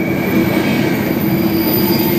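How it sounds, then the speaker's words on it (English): A CSX freight train hauled by elephant-style locomotives rolls past close by, with loud, continuous wheel rumble and a high, sustained wheel squeal. "It was an elephant-style train."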